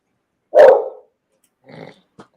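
A beagle barks once, loud and close, then follows with a softer short bark and a brief yip.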